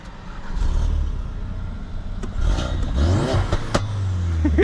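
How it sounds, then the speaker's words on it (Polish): A 2017 Ford Focus RS with the 2.3 EcoBoost engine revs hard in sport mode, a loud rumbling engine surging and falling with sharp cracks and pops from the exhaust scattered through it. "ale metaliczny dźwięk, jak to strzela, aż cały samochód się rusza"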